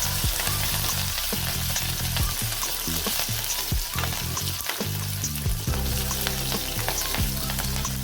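Loud, steady sizzling of curry leaves, garlic and green chillies frying in hot oil for dal tempering, with crackling pops and occasional clinks of a spoon stirring the pan.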